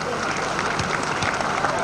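Brief crowd clapping at a rugby league match between Hull KR and Wigan, as small boys run off after a half-time 7-a-side game; scattered applause sits under a commentator's voice.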